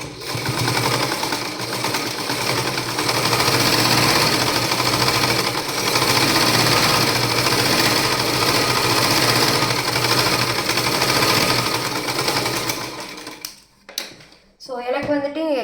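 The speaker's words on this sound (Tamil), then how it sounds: "ஜஸ்ட்டு சைடில் வந்துட்டு நம்ம ஸ்டிச் போடுறோம்." Sewing machine stitching the side seam of a cloth bag, a steady, loud mechanical whirr running continuously for about thirteen seconds before stopping, followed by a brief stretch of speech.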